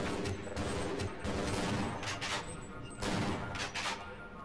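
Gunfire erupts in Half-Life, several sharp shots in quick bursts, loud and close.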